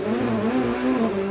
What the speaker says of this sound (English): we can hear how little grip he has on those cold tires as he spins his wheels leaving the pit lane